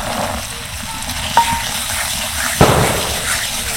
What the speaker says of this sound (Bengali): এবার আমি দিয়ে দেবো মটরশুঁটি।